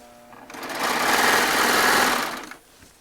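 A Baby Lock Triumph serger runs steadily while piecing jelly roll quilt top strips, a fast, even mechanical whir that starts after half a second, holds for about two seconds, then stops.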